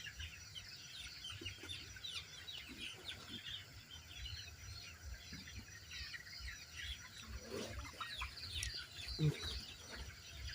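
Forty-five-day-old colour bird broiler chickens in a poultry house cluck and squawk faintly in a quiet, continuous chorus, with occasional louder calls nearby.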